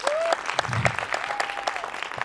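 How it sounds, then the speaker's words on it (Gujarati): Audience clapping at a Mehsana film promotion event, steady dense applause throughout with a brief voice-like tone and a low murmur beneath. "એટલે મહેસાણા માટે તો પહેલાં તાળીઓ થઈ જાય"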